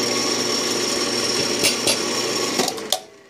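Steady high-pitched whine of a power drill with a 5/8 bit boring through a metal plate of a Ransomes mower deck, running continuously with a few sharp grinding bursts near the end, fairly loud and close.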